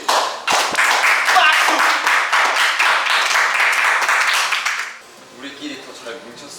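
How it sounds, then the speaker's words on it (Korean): A small group claps briskly and loudly up close during an anniversary team dinner, the burst running about five seconds before cutting off into quieter room noise and faint voices. "박수."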